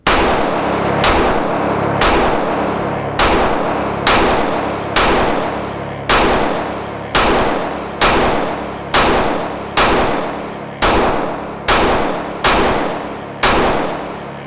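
A Sig P365 XL pistol fires at a 10-yard range target, about fifteen loud, evenly spaced shots roughly a second apart, each with a sharp crack and a short decaying echo.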